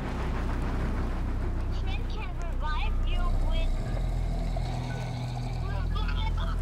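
A boat's engine drones steadily in a video game, a low continuous rumble with a faint whine, while two players talk over it the whole time.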